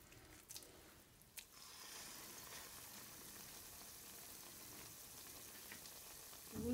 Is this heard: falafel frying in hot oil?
yes